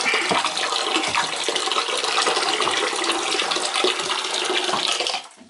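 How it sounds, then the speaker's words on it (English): Water pouring into a mix in a continuous splashing rush for several seconds, then cutting off abruptly. "Okay, so we're now adding the water in."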